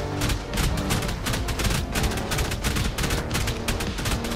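Sustained automatic turret gunfire in the Ark PvP game during a base raid on Stegos, a dense, continuous rattle of rapid shots with booming impacts, loud and unbroken throughout with no voices.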